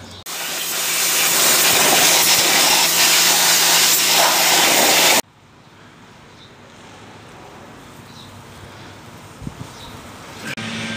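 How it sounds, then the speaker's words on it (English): A power washer sprays loud, steady broadband hiss while rinsing dirty house siding and a porch, running continuously for about five seconds before cutting off abruptly, leaving quieter outdoor background with a few small knocks. "I have the power washer out. Might as well rinse off the siding and the porch because it's dirty."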